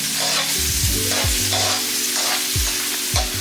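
Onion and garlic fry in a pan for a tomato tuna pasta, a steady loud sizzle broken by repeated scraping stirs and low knocks against the pan, with no voices.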